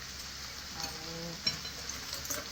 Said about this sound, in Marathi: आता आपण नूडल्स मिक्स करून घेऊया